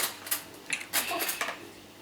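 A metal spoon clinks and scrapes against a Nutella jar, with a few bright taps and rattles in quick succession, close and alone.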